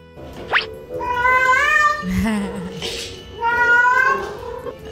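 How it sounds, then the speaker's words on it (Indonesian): A talkative cat meows repeatedly up close: several long, drawn-out, wavering meows with short pauses between them and a brief chirp in the middle. "Ini ada kucing bacot nih"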